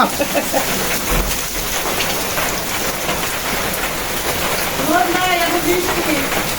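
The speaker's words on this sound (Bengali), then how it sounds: "এখন বৃষ্টি দারুণ।" Sudden rain falling outdoors near a garden on a hot day, a dense steady patter with a faint distant rumble, and a voice talking briefly near the end.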